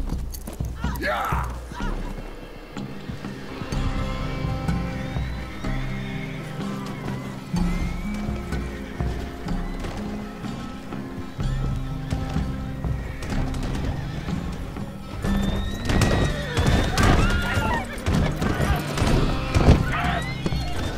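Horses neigh and gallop off together as riders set out in a video game, hooves clip-clopping under a musical score, with someone shouting and voices in between.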